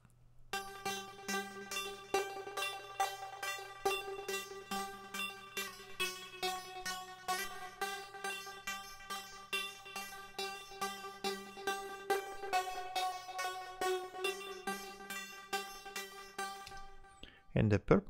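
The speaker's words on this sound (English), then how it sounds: "So I added this rhythmic synth" Rhythmic synth in a music track, pulsing in a steady, quick repeating pattern of bright, tonal notes that weaves between the harmonies, heard alone without talk and ending abruptly.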